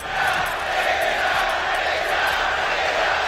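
A large arena crowd at the CS:GO grand final of ELEAGUE Boston 2018 roars steadily and loudly, a continuous wash of cheering and shouting with no break.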